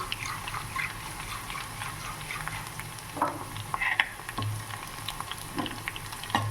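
Besan and buttermilk batter poured into a sizzling garlic tempering in hot oil, a close, steady frying hiss with bubbling and a few louder spatters and stirring scrapes.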